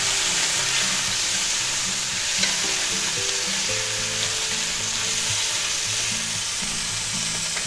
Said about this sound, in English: we'll go ahead and take our minced garlic and we'll put that in there. Give that a quick stir.